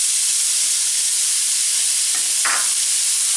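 Diced onion lands in a hot pan and sizzles, a steady loud frying hiss with a brief stirring scrape near the end.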